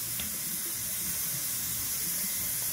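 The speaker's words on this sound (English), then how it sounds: "Fresh water on the face." Running tap water pours steadily into a sink with a constant rushing hiss as fresh water is splashed onto the face during a shave, no voices.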